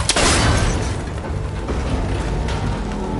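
A cable connector on an ancient, rickety tower in Horizon Forbidden West is shot and breaks: a loud, close boom and burst opening into a dense mechanical clatter and rumble that carries on for about three seconds.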